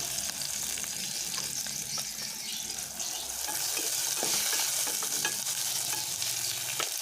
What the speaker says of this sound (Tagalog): mag brown lang ng konti tsaka sibuyas at bawang